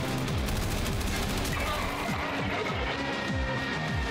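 Rapid gunfire from a weapon in the video game Warframe, a dense fusillade of repeated shots with booming low thumps, continuous and loud throughout with no speech.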